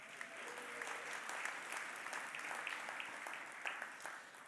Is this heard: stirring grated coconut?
no